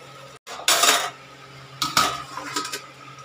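A metal lid set down over a cooking pot of broken-rice dish, giving two or three clattering metallic knocks close by over a low steady hum, with no voices.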